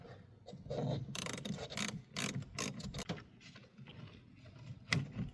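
A ratchet loosens the 11mm positive battery terminal nut on a Chevy Silverado, giving quick bursts of clicking and metallic rattling in short runs, close and fairly loud, with no speech.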